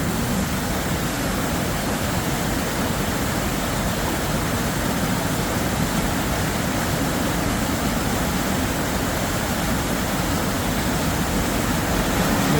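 A strong river rushes below between mountains, a constant broad roar of flowing water with no breaks, loud and unchanging throughout.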